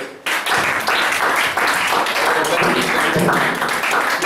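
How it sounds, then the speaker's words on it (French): A church congregation applauds to acclaim a preacher, a dense, loud burst of many hands that starts abruptly after a brief quiet moment and holds steady without fading. "Acclamation pour le prophète."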